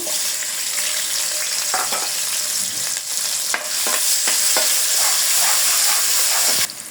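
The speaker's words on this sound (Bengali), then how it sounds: "এই তেলের সাথে পেঁয়াজ দিয়ে দেবো আধা কাপের মতো" Onions, about half a cup, frying in hot oil for a home-style country chicken curry with ground coconut: a steady, loud sizzle with occasional stirring clicks and scrapes throughout.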